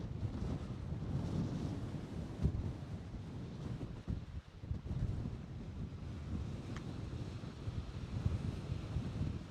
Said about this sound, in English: it's so flippin' windy right now